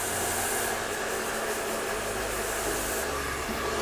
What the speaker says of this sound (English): I like to use a concentrator on my dryer